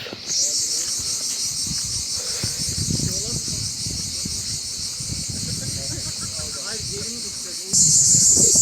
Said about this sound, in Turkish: Antalya civarında her yerde böyle cırcır böcekleri ötüyor.